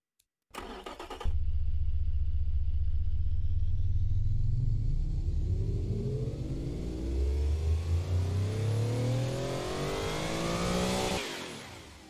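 A V16 turbo sports car engine in the Automation video game starts with a short burst, then settles into a smooth, loud, steady drone that climbs gradually in pitch as it revs higher, with no voices over it.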